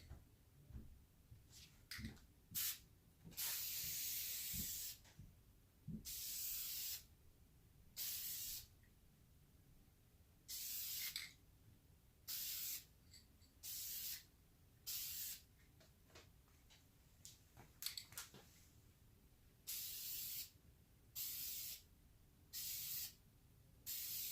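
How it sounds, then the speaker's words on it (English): An aerosol can of VHT Nightshade tint spray paint sprays onto car tail lights in repeated hissing bursts, some long and some short, separated by quiet pauses, close and steady in rhythm. "Then start spraying"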